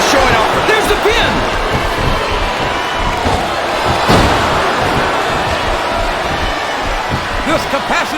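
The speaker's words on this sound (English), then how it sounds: "This capacity crowd is making their opinions known tonight." Capacity wrestling arena crowd in the WWE SmackDown vs. Raw 2007 video game, a steady loud roar of voices and cheering with occasional thuds, under commentary.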